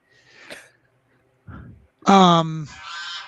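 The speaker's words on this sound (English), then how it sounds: "I hope my geese are not too loud." Backyard geese give a loud, near honk with a few shorter calls around it, sounding over quiet room noise during a meeting.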